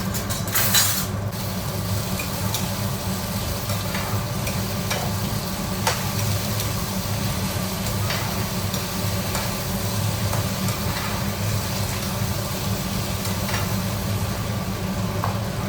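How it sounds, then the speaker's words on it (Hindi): Potatoes with cumin fry in a pan with a steady close sizzle, broken by occasional spoon scrapes and a louder clatter at the start, over a constant low hum. "थोड़ा सा इसको फ्राई होने दूंगी आलू को 5 मिनट।"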